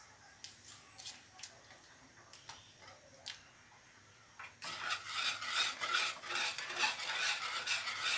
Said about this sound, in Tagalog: hindi tumitigil yung paghalo para hindi dumikit yung mga nauna nang naluluto